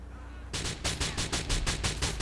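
Rapid gunfire from Grand Theft Auto IV rings out as a loud burst of about a dozen evenly spaced shots, close and alone without talk.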